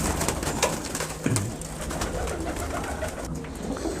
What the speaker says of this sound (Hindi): ये देखिए जेठिया कबूतर है ये।